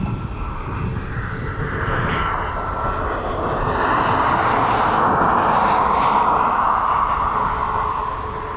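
A Ryanair Boeing 737 MAX 8200 departing East Midlands Airport, its jet engines roaring loud and steady, swelling toward the middle with a broad rushing hiss before easing slightly.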